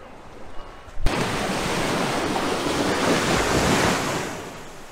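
Ocean surf on the beach of Koh Mak, a small Thai island, rushes in as a loud, steady wash of breaking waves after a sudden start, with wind buffeting the microphone.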